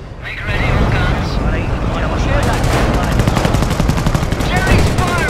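Sustained German machine-gun and rifle fire in the World War II strategy game Company of Heroes, dense rapid bursts running throughout, loud and close, with battle chatter and shouted voices mixed in.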